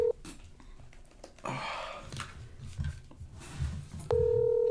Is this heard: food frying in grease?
no